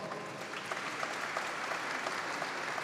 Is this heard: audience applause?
yes